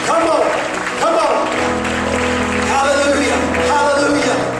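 Congregation clapping hands during an altar call at a church service, steady applause throughout with voices and shouts mixed in.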